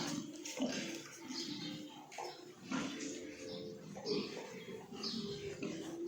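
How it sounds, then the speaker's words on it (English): Pigs on a farm grunt softly and irregularly before butchering, with faint splashing and a murmur of voices mixed in. "The pig's being selected."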